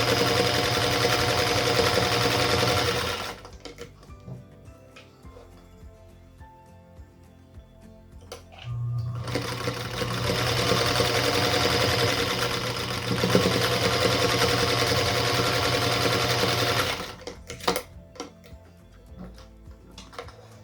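Quilt block seams are stitched on a sewing machine in two long, steady runs of close, even whirring, separated by a quieter stretch with faint handling clicks, then a few small taps at the end.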